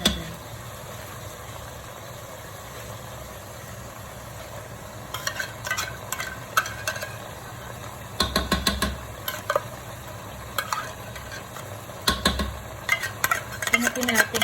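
Tuna pasta with Nestle cream is stirred in a pan, the spoon scraping in irregular bursts after a quiet start, over a steady low background hum.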